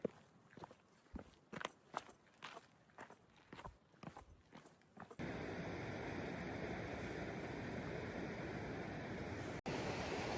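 Footsteps crunch along a creek bank for several seconds, then a creek's steady rushing flow takes over, loud, close and continuous, with a brief cut near the end.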